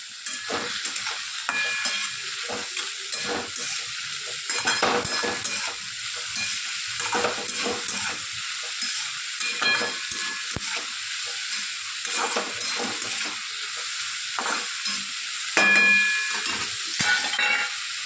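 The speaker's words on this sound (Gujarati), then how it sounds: "આની અંદર લીલી ડુંગળી, ટામેટાં, લસણ અને લીલા મરચાં બધું સરસ આપણે સાથે મિક્સ કરી દઈએ." Green onion, tomato, garlic and green chillies sizzle in hot oil while being stirred, a loud continuous frying hiss with repeated scraping strokes of the spoon close by.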